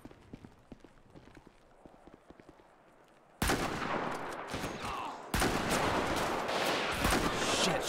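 Gunfire from a sniper rifle in a GTA 5 zombie mod: sharp, faint cracks early on, then the scene erupts into dense, loud, continuous bursts of shooting that fill the rest of the stretch.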